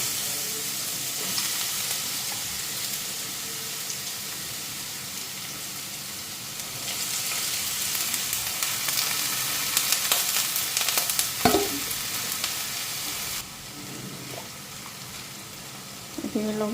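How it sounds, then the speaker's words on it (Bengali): Vegetables frying in a pan with a nigella seed tempering, giving a steady sizzle under light stirring and scraping, growing louder midway with a few sharp clinks before settling down. "কালো জিরা সম্বারটা দিলে কি ভাজাটার মধ্যে খুব সুন্দর সেন্ট করে"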